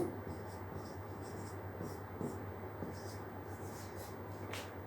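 Faint marker strokes on a board in a lecture setting, short repeated scribbles over a steady low hum and background noise.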